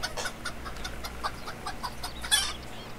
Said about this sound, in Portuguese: É um galo e três galinhas.